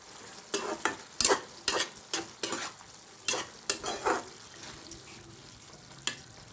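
Ridge gourd curry cooks in a pan with a soft sizzle, while a utensil stirs it in a series of uneven scraping strokes, close and moderately quiet.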